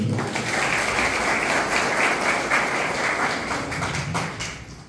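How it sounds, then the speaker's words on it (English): An audience claps for the chief guest, the APO Admin Project Office of Gadchiroli, at a study camp event: a steady, dense round of applause from a crowd, holding evenly for several seconds before fading at the end. "Huge round of applause for sir."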